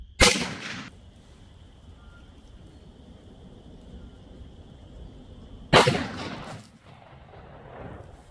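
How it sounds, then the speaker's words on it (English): Two booming rifle shots from a Winchester 1895 lever-action chambered in .405, one at the start and another about five seconds later, each a sharp loud blast with a short decaying tail, quiet background between. "So I'm loading up two rounds. Just starting to learn this gun. And let's give it another shot."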